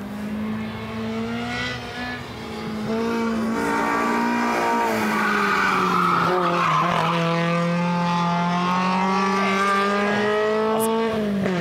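A Lada race car sliding through a corner, its engine note changing pitch while the tires screech loudly, then howling strongly as it accelerates away, close and continuous.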